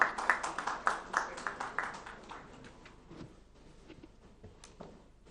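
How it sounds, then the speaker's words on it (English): A small audience at an environment conclave gives a round of applause: a burst of sharp, rhythmic handclaps for about two seconds that then thins into scattered, fading claps. "Please welcome him with a round of applause."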